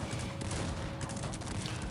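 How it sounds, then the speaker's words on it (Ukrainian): Artillery cannons fire in the strategy game Cossacks 3 as a dense, continuous barrage of booms and cracks, loud and overlapping without pause. "Гармати так настрілюють"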